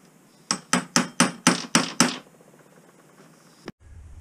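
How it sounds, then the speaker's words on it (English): A drift punch hammered through a roll pin in the output chamber of a Honda HRX 537 mower's hydrostatic drive: seven sharp, evenly spaced metallic strikes, then a single lighter knock in a quiet room. "Using a drift or a punch, push through this roll pin."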